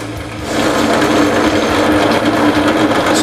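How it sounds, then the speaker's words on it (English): Drill press in a home garage spinning a workpiece like a lathe, a loud continuous mechanical whir and rattle that starts after half a second and holds steady. "So I'll turn on the drill press and give you a look at what it looks like."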